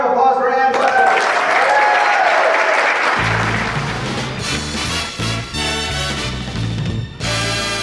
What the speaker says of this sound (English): Round of applause for Ann Butler.